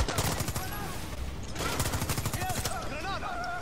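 Grenade blasts and gunfire in the Far Cry 6 game, a dense fusillade of sharp bangs and rumbling booms that runs for several seconds with voices mixed underneath.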